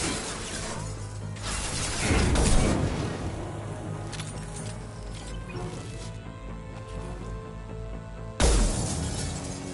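Glass shattering during a Mass Effect 2 firefight: a loud crash and spray of breaking shards, then a second sharp smash near the end over dense game action.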